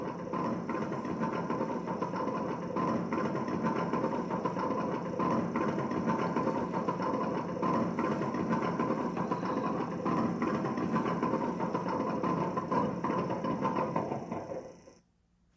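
The simulated engine sound of a WPL E1 RC truck idles with a steady, buzzing mechanical drone, then cuts out abruptly near the end, leaving silence.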